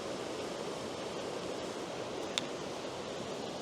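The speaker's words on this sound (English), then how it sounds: "This is pretty right in here with the water noise." Water pours over a small waterfall or weir in a continuous, even rush of hissing flow, steady throughout with one brief click partway through.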